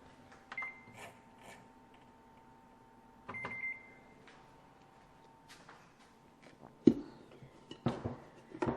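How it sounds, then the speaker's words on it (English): A kitchen timer is set in a home kitchen during bread baking, giving short electronic beeps amid quiet handling clatter, a few scattered knocks and shuffles, with no one talking. "So I'm actually going to set the timer."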